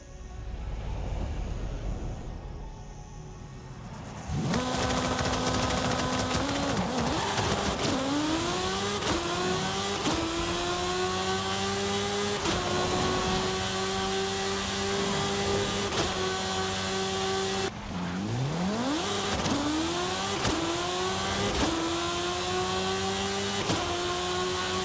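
Engine of the Sierra Cars Yokohama, a Hot Wheels expansion car in Forza Horizon 5, revs hard and climbs through rising gear sweeps, drops briefly at a shift near the end, then climbs again, loud and close with no talk.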